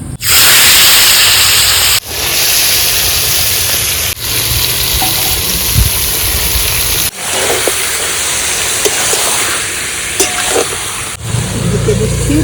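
Marinated chicken going into a hot wok for bamboo chicken biryani, a loud continuous sizzle broken by several abrupt cuts, with scattered stirring clatter and some low rumbling underneath.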